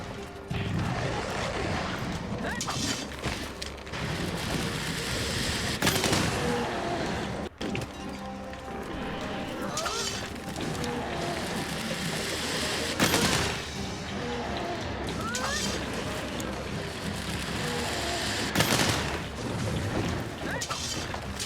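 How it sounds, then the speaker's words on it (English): A fireworks weapon is fired repeatedly during a Great Jagras and Barroth hunt in Monster Hunter: World, giving dense loud crackling blasts and booms that run throughout, with players talking over the chaotic battle noise. "every time you're blasting your fireworks is that it kind of knocks me out of what I'm doing"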